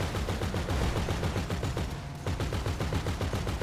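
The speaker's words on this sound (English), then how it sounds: "Cameron, you need to hear this gun in your sleep." An automatic gun in the video game GTA fires a rapid, steady stream of shots for several seconds, loud and close, with no talking over it.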